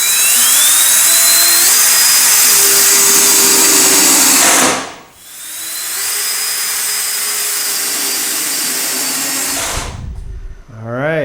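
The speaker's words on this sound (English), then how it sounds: "So I'm putting these 1 5/8 screws about every foot or so." A power drill drives 1 5/8 inch screws into a large workshop shelf, its motor whining loudly and steadily in two long runs, pitch climbing slightly as each screw seats, with a brief pause between them.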